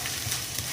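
Ginger and then garlic sautéed in a pan for fried tilapia, a steady close sizzle with soft stirring scrapes, continuous and fairly quiet with no talk.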